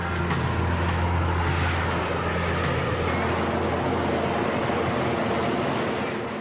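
Loud, continuous roar of a Harrier jet slowing down with its nozzles directed forwards while approaching the carrier USS Saipan, a broad steady rushing blast with no talk.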